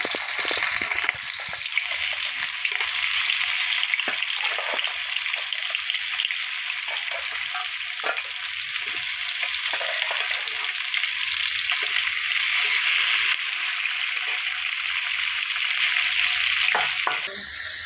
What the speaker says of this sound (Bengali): এবারে দিয়ে দিচ্ছি কাঁকড়াগুলো ভাজার জন্য